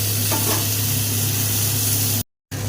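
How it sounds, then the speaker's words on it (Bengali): Potatoes frying in oil in a wok (kadai) give a steady, loud, close sizzle with a low hum underneath, cutting out to silence for a moment near the end before resuming. "ওই তেলের মধ্যে দেখুন আলুগুলোকে ভেজে নিতে হবে।"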